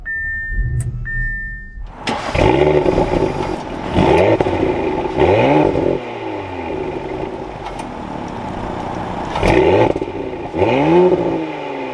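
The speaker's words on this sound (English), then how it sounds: "with my foot on the brake, we can bring this to life" A 2022 Audi SQ5 Premium Plus SUV engine cranks and starts with a sharp roar, revs briefly a few times, then settles into a steady idle.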